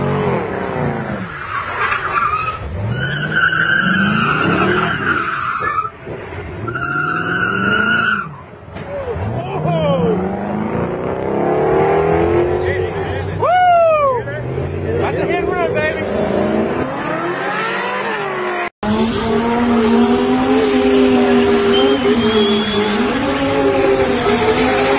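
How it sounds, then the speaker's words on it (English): A car spins in tight circles during a street spinning stunt, its tires squealing in long rising and falling wails over a revving engine, loud and close, with a sudden cut near the end and people talking over it. "they spin cars 24 hours"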